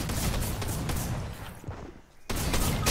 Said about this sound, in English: This guy's got a shotgun on me.